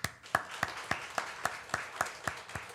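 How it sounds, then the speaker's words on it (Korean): A church congregation applauds during a Sunday service: a steady run of about ten evenly spaced claps, moderately close and fairly quiet, with no talking over it. "그동안 우리 6개월 동안 잘 이겨내신 여러분 모두에게 우리 박수를 보냅니다"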